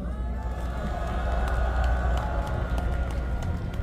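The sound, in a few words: crowd applause at candlelight rally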